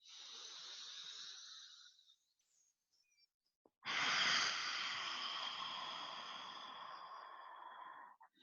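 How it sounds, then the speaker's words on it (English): Slow pranayama breathing during a yoga session: a long, soft exhale, a quiet pause, then a fuller, airy breath that swells and gradually tapers off. Each breath is close and clear with no talking. "Inhale. And exhale."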